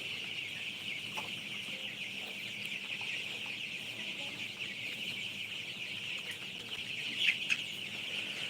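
Kalabat chickens on a farm cluck and chatter in a steady, moderately distant flock murmur, with a faint higher call standing out near the end.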